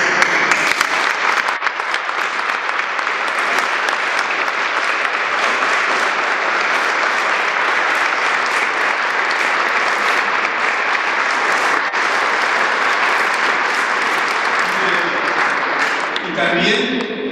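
A congregation at a church gathering bursts into loud, sustained applause that fills the space for most of the stretch, dense and steady before tapering off with a voice at the very end.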